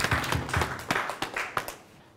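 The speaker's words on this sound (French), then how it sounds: "Permettez-moi, sans avoir le mandat, de nous demander d'applaudir APC," Small audience at a workshop clapping, a handful of sparse, uneven claps that thin out and fade within about two seconds, fairly quiet in a room.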